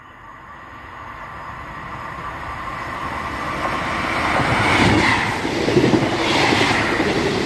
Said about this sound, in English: Now coming through are two ScotRail 158s running the 1L09 from Edinburgh Waverley to Perth